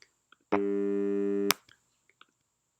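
A single synthesized buzzy tone, a complex wave rich in harmonics, sounds steadily for about a second, then cuts off, with faint clicks before and after.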